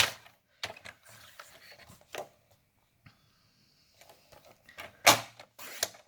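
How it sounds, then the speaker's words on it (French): Scissors snipping through white card to cut a small rectangle, a few sharp isolated cuts spaced across the stretch with quiet gaps between, close and fairly faint, no talking. "couper un rectangle de 9 par 12 cm"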